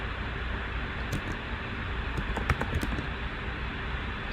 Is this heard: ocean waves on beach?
no